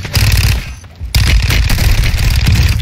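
Dense, rapid video game gunfire on the Ashika map, with sustained automatic bursts and heavy shots that dip briefly about a second in before the shooting resumes loudly and continuously.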